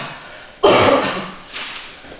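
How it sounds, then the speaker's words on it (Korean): In a classroom with many sick students, a single sharp cough bursts out after a brief quiet, followed by a softer second cough or throat sound trailing off. "교실에 감기 환자가 많아서 기침 소리가 많이 들리는데 양해 부탁드려요."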